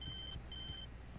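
A telephone rings in the video game Alan Wake, two short electronic bell trills in quick succession, faint and thin over a low background hum.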